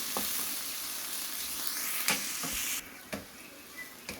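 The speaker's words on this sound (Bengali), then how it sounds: "দিলাম পেঁয়াজ দিলাম পেঁয়াজের একটু বাজবো হালকা করে" Onions frying lightly in hot oil in a pan while making a chicken curry masala, a steady soft sizzle with a few scraping stir strokes, fairly quiet and without talk.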